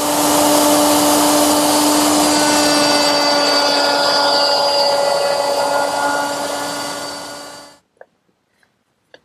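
A router table cuts a slot in wood for a nut, giving a loud, steady high-pitched whine for most of the pass that winds down and stops, followed by a few small knocks.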